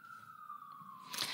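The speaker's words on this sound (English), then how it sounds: "There was also like a siren going by" A siren passes outside, heard as a faint, steady wailing tone that slowly drops in pitch across the whole stretch, with a brief rustling crunch near the end.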